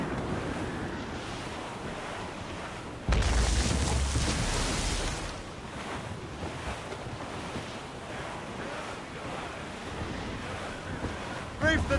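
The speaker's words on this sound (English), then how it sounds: "Wind's getting vicious." Strong wind and rolling surf at sea in the video game Assassin's Creed Rogue make a dense, continuous roar with a louder gust swelling in after a few seconds, then settling into a steady rush.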